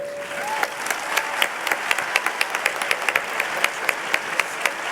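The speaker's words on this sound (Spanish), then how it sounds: "Un aplauso, por favor." An audience at a Tecnológico de Monterrey student event applauds a presidential candidate. The clapping is steady and moderately loud, with distinct individual claps standing out over the crowd throughout.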